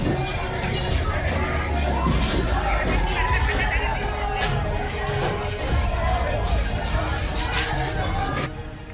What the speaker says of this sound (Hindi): इसके बाद भीड़ ने पथराव शुरू कर दिया